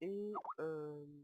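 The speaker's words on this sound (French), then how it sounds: "c'est le bruit de Skype" A Skype notification chime on a computer: a short, quiet two-part tonal bloop with a quick pitch bend in the middle, heard alone apart from a faint single spoken word.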